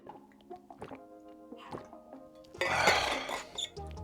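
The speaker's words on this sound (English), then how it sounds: "Water break, make sure you guys stay hydrated." Water gulped from a reusable bottle with a UV-sanitizing cap during a Tesla road trip, a burst of close, wet sloshing and swallowing lasting about a second amid quiet cabin sounds.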